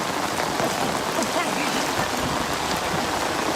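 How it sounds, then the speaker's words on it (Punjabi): A dense, steady wash of heavy rain pours down in a Punjab village, loud and constant, hissing on surfaces throughout. "ਦੌਲਤਪੁਰ ਦੇ ਵਿੱਚ ਕਹਿੰਦੇ ਕਈ ਦਿਨਾਂ ਤੋਂ ਬਹੁਤ ਬਾਰਿਸ਼ ਹੋ ਰਹੀ ਆ"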